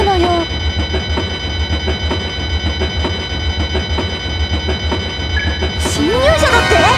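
In a video game, a steady ticking, bell-like pulse over a train's rumble, then a rising, wavering emergency siren tone for an intruder aboard joins near the end.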